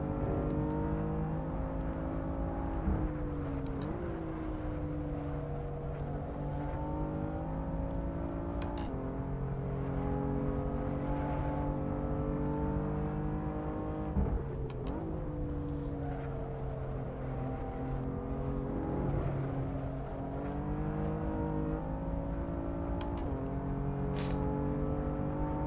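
BMW M4 race car in Assetto Corsa at Canadian Tire Motorsport Park (Mosport), engine droning loud and steady with rising revs and repeated brief dips at gear shifts, running continuously throughout.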